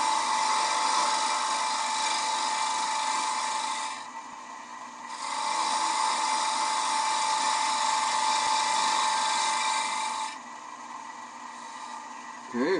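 A wood-turning gouge cuts a bowl spinning on a lathe, giving a steady, loud scraping hiss that drops away briefly around the middle and near the end before resuming, with no talk over it.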